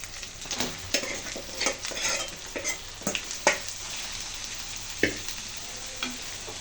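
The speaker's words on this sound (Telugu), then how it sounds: "ఇప్పుడు ఫిష్ మొత్తం వేసుకోవాలి సార్" Fish pieces for a fish curry go into a hot frying pan, giving a steady oil sizzle with repeated scraping and stirring clatters from a utensil, close and moderately loud, with no talking.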